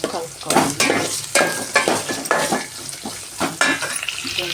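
Rice with curry leaves and salt stirred in a pan for ghee coriander rice, with loud rhythmic scraping and clattering strokes over a steady frying sizzle, close up and without speech.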